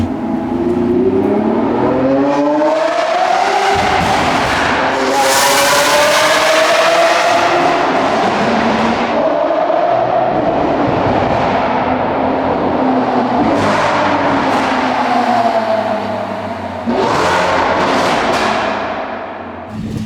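A Porsche 992 GT3 RS on a mountain road revs hard and close, its loud engine note climbing and falling through several gear changes before easing off near the end.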